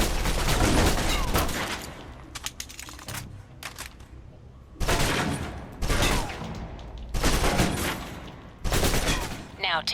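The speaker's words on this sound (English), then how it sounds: "Now, let's move on to the submachine gun. Now let's empty the clip." Submachine gun emptying a full clip in the video game Alpha Protocol, loud rapid bursts of automatic fire in several separate strings.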